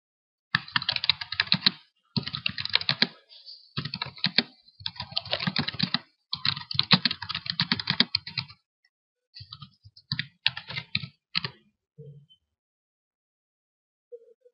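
Fingers type a reply on a computer keyboard in quick bursts of clicky keystrokes separated by short pauses, close and clear in a quiet room.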